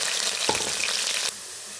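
Garlic, dried chilli and curry leaves fry in hot oil with mustard seeds, giving a dense, steady crackling sizzle close by that shifts slightly as the pan is stirred, then settles to a quieter hiss.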